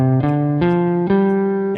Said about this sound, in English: now with the 2nd and the 6th gone, the minor scale sounds like this.